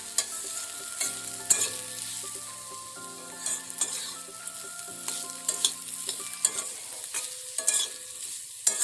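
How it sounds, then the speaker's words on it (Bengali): Potatoes fry in a pan as turmeric is stirred in, a steady sizzle with a spatula scraping and clinking against the pan in bursts, close up and without speech. "আলু ভাজতে গিয়ে ভুলেই গেছিলাম যে আলুতে হলুদ দেওয়া হয়নি, তাই হলুদটা আবার পরে অ্যাড করলাম।"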